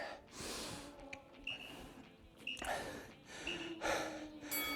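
Several sharp, heavy gasping breaths and snorts come in quick succession, close and fairly loud, taken as a brief rest during a jump fitness workout of down-ups, with no talk over them.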